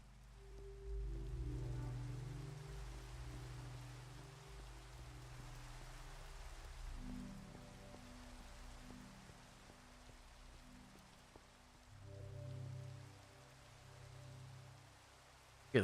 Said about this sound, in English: with the rain and the mobs that catch fire, will still survive